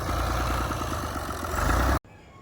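Tractor engine idling in a Punjab village field, a loud close diesel chug with a steady pulsing rhythm that runs unbroken, then cuts off abruptly near the end leaving faint background noise.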